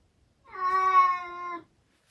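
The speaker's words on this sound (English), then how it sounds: "interrupted by his cat Betty mid-broadcast" A pet cat gives a single clear, drawn-out meow lasting about a second, close and alone against near silence, heard during a home weather broadcast.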